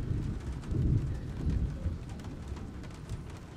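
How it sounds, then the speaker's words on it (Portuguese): Low, rumbling rain ambience in Shadow of the Tomb Raider, with soft rolling thunder-like swells and faint bird or dove calls, quiet and steady. "O barulho da chuva é muito bom"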